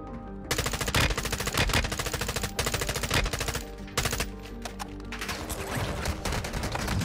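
Rapid automatic gunfire from an FSS Hurricane submachine gun in the video game Warzone, loud, dense bursts running almost continuously with brief gaps.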